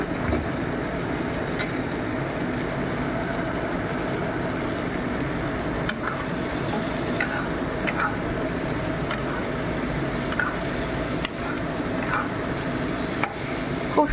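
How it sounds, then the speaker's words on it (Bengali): Boiled pasta being stirred into a hot pan, giving a steady, even sizzle and frying crackle that runs throughout with faint scraping of the stirring. "এবার দিয়ে দিচ্ছি সিদ্ধ করে রাখা এই যে পাস্তাগুলো"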